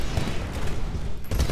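Gunfire in Titanfall, a dense burst of shots and booms, loud and close, with no voices over the short stretch.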